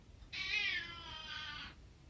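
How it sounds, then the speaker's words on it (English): A house cat gives a single drawn-out meow lasting over a second, clear and close, in a quiet indoor room with no talk during the call. "You're meowing while I'm telling you that."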